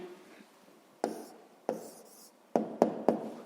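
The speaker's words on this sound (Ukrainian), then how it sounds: "Ну що ж, записуємо відповідь." A pen writes out the answer to a fifth-grade maths problem on paper, making faint scratching strokes with a few sharper taps and clicks spread through the quiet.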